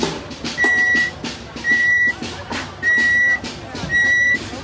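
A parrot whistles in a crowd at a live street protest, repeating a sustained, steady piercing note four times in an even rhythm, each lasting about half a second, over a background of crowd murmur and scattered voices.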